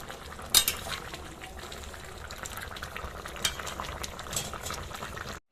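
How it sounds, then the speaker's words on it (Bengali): Thin fish curry of small mourala fish with potato and pumpkin bubbles in a pan while being stirred, with a soft steady simmer, occasional utensil clinks and scrapes, and no talk. "নাড়াচাড়া করে দেবো"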